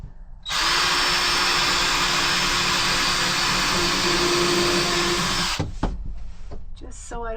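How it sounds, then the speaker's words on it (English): Power drill pre-drilling a piece of barnwood shelf, a loud, steady high whine running for about five seconds before cutting off abruptly, followed by a few clunks and handling noises. "I'm gonna need to pre-drill this barnwood."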